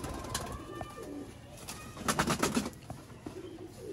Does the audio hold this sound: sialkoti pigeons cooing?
yes